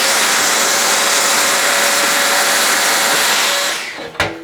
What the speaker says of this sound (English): this allows me to get right up the tube to get rid of any fluff